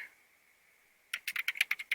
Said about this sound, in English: click here and start typing